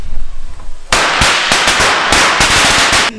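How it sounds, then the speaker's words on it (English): Chinese firecrackers go off in a loud, rapid string of sharp cracks and pops that begins abruptly after a quieter moment and keeps crackling for about two seconds, close by. "he has like some Chinese firecrackers,"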